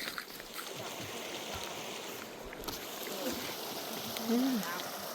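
River water flowing in the wilderness near Yosemite: a steady, broadband rushing wash that continues unbroken, with a brief faint tonal sound near the end.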